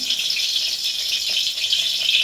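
Steady, dense crackling and spitting of mustard seeds frying in hot oil, close and continuous with no pauses or voices.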